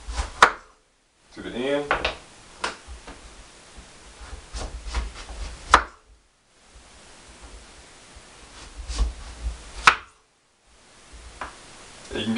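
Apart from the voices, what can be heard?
knife slicing butternut squash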